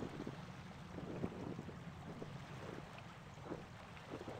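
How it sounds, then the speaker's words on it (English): A flowing brook in the video game Year Walk gives a steady, soft watery wash with faint bubbling flecks, continuous and fairly quiet throughout, with no talking. "Oh, a brook."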